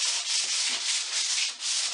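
Steady rhythmic scratching of sandpaper rubbed by hand over the curved base of a vintage walnut farm table, close and continuous with slight pulses in each stroke.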